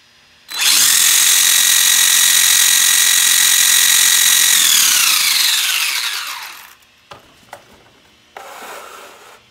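The brushed electric motor of a Redcat Blackout XTE RC truck, run on a 7.4-volt 2S LiPo, spins up to a loud, high steady whine, then winds down with falling pitch, followed by a few faint clicks.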